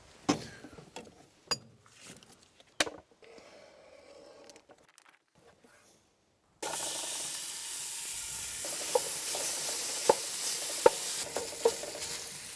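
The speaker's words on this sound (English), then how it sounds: "I'm going to fry some bacon first" Chopped bacon hits a hot pan and starts sizzling: a few sharp clatters and quiet handling first, then a sudden, steady loud frying hiss with small pops and stirring clicks.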